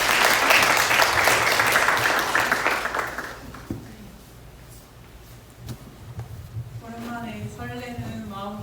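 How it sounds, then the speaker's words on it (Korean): A church congregation claps loudly and densely for about three seconds, then the applause fades out and a voice begins speaking. "박수 한번 해주세요."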